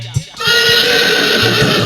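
A storyteller imitates a horse neighing with his voice, one loud, drawn-out, strained whinny that holds steady after a brief breathy start.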